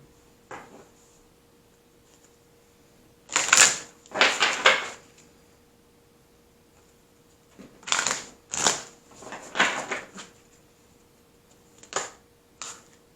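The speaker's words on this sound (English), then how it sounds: "Let's pull an oracle card." Oracle cards are shuffled and pulled in several short bursts of riffling and sliding, close and fairly quiet, with pauses between handlings and no talking.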